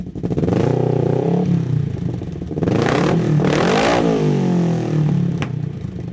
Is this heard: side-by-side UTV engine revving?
yes